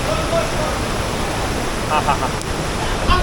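Rushing water from Nanemachi waterfall during the monsoon fills the scene as a dense, constant roar, with faint voices and small splashes briefly surfacing over it.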